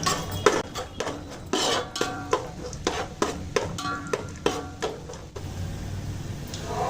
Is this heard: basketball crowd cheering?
no